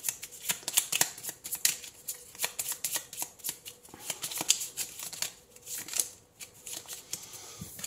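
Tarot cards are shuffled close up in quick, papery riffling bursts, followed by the soft slap of cards being drawn and laid down, with no talking.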